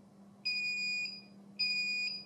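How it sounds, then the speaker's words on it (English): A KK2 flight controller's shrill low-battery alarm buzzer beeps twice, each tone lasting about half a second, over a low steady hum. "the buzzer starts sounding"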